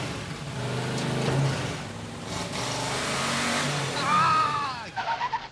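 Turbocharged 2JZ engine in a Charger revving hard while running up through the gears, a sustained mid-range drone with a rising whine near the end and short choppy bursts as it finishes.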